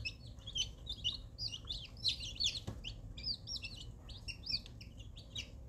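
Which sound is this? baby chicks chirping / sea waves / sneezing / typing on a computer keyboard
baby chicks chirping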